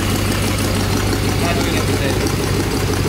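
A C4 Corvette fitted with new headers idles with a loud, steady, rough rumble that holds unchanged from start to finish.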